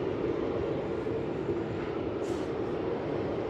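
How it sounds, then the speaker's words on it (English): A Jetstar airliner taxiing in at Melbourne Airport gives a steady, moderately distant engine rumble and whine, even and unbroken, with a brief higher hiss partway through. "So it's Jetstar's just taxiing in."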